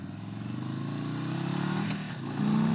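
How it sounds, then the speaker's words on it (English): A 2022 Indian Chief Bobber Dark Horse Stage 2 motorcycle with aftermarket exhaust idles and revs, its deep, steady low rumble rising toward a louder rev near the end, heard close without talk. "Exhaust sounds good."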